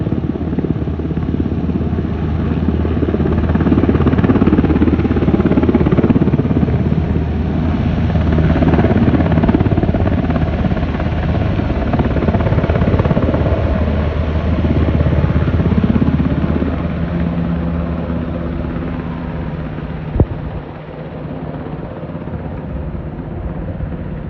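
A Cal Fire firefighting helicopter works the Blue Lakes fire along Highway 29 in Lake and Mendocino counties, its rotors a steady, loud, close thumping roar that eases off in the latter part, with one sharp click near the end.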